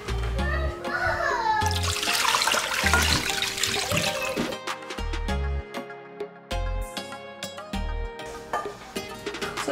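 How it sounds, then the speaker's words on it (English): Water splashes and gushes steadily into a pot of birria meat at close range, with brief low thumps and clatter scattered throughout. "So now I'm just gonna add enough water to cover the meat."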